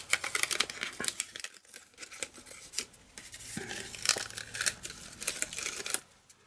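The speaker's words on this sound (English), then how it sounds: "Remove the paper." Paper backing peeled away from a handmade card front after masking and blending backgrounds, giving a close, crackly series of tearing and rustling bursts with short pauses, and no voices.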